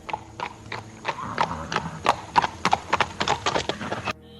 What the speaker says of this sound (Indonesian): Terdengar suara derap kuda dari kejauhan semakin mendekat menghampiri mereka